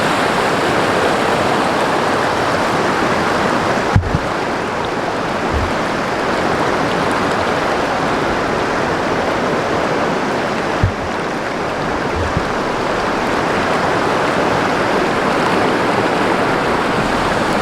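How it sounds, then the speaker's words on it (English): Crystal-clear stream water runs steadily over rocks outdoors on a hike, a constant, full rushing wash close by with no voices, broken only by a couple of faint knocks. "The water is just like crystal clear, just running through here."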